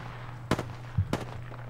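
Gunfire in the video game Apex Legends, two sharp, fairly loud shots about half a second apart over a steady low hum, with no talking.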